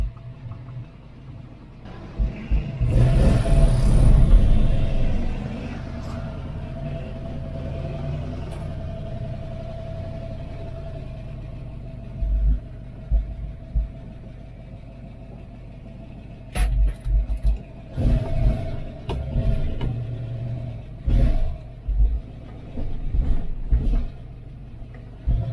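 A Ford Maverick V8 idles close by, shaking heavily, as a low rough rumble with uneven thumps and rattles that grow louder and choppier in the second half.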